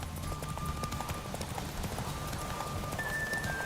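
Horse hooves clip-clop at a steady, continuous gait in a video game, moderately loud throughout, with a faint tonal hum in the background.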